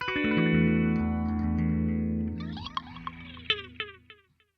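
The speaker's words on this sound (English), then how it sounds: "Next round, and the phaser increases with speed again. At the end, it sounds more like a sort of univibe." An electric guitar through a Roland Cube amp with phaser and delay rings out in sustained chords that swirl and sweep, then breaks into short plucked notes whose echoes repeat and fade to silence.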